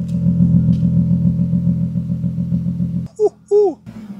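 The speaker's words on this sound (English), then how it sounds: "Let me put my microphone up to the exhaust real quick." A rough-condition BMW E36 exhaust rumbles loudly at close range with a steady low idle drone for three seconds, then two short sharp revs burst out in quick succession.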